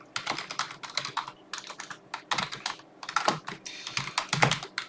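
Code being typed on a computer keyboard: rapid, irregular bursts of crisp key clicks with short pauses, close and clear with no talking.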